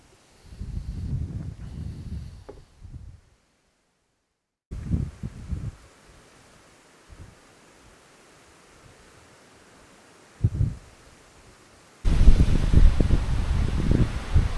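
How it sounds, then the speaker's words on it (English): Strong gusts hit a camera microphone at a forest campsite, buffeting it in loud irregular bursts separated by quieter stretches, with a heavy sustained roar at the end. "It's pretty windy."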